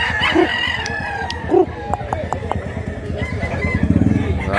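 Roosters crow at a chicken market in Mantalungon, Cebu, two crows rising over a busy crowd murmur with clucking fowl nearby.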